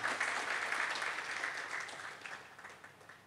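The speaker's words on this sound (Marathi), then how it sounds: "म्हणून एकदा विजससाठी आणि कुटुंबासाठी जोरदार टाळ्या." An audience at a Marathi lecture claps heartily, a dense burst of applause that starts loud and gradually fades over about three seconds.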